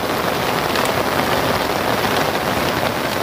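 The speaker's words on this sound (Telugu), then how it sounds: "వర్షం బాగానే వస్తుంది కదా అటు నుంచి బాగా వస్తుంది" Dense, heavy rain pours steadily without a break over farm fields, a loud constant hiss of drops hitting surfaces.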